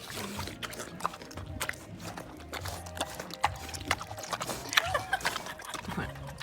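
A pig trots across a hard floor, its hooves tapping in quick irregular clip-clop steps up close, while a person talks and encourages it at intervals.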